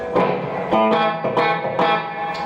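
An electric guitar plays a few distorted chords through a Blackstar HT Series amp with built-in spring reverb, each strum ringing out with a washy reverb tail. No voices.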